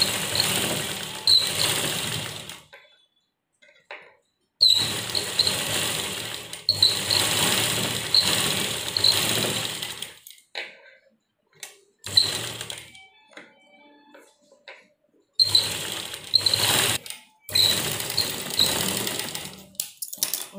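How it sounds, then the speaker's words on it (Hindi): Sewing machine running a topstitch around the edges of a homemade cloth face mask, loud steady whirring bursts of several seconds each, separated by short pauses, no talking. "हम एक दबी हुई सिलाई चारों तरफ इस पर लगाएंगे"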